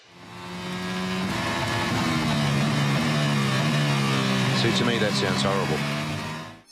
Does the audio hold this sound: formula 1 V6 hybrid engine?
yes